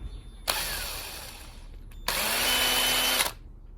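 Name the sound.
drilling out a carburetor jet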